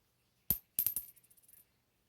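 A 1982 zinc penny drops onto cement with a sharp metallic clink, bounces several times in quickening, fading taps and then settles, faint and close in a quiet room.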